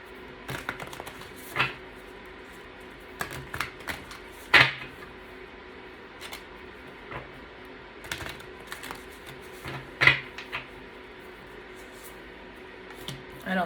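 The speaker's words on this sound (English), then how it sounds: "Let me shuffle." Tarot and oracle cards are shuffled by hand in quiet, intermittent bursts of soft riffling and tapping, with a few sharper clicks spread across the stretch.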